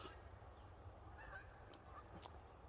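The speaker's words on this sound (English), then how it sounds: "Geese." Geese honking near a lake at a hammock campsite, a few faint, distant honks rising over a quiet outdoor background.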